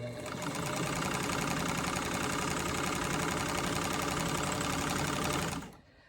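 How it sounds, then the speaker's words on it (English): A home sewing machine stitches a quilt block for a Harrisburg pattern, running steadily and loudly at a fast even whir for about five seconds before stopping abruptly. "now we can sew"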